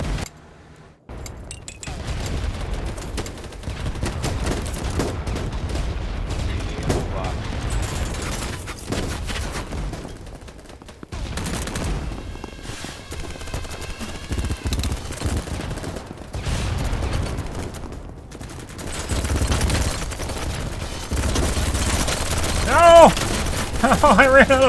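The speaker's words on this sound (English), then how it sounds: "I literally shot him multiple times." Bursts of rapid automatic gunfire in the video game BattleBit, repeated volleys and single shots over about twenty-five seconds, moderately loud, with occasional player voices in between.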